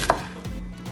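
One crisp knife stroke cuts through an onion on a board, a short close chop followed by a quiet hum.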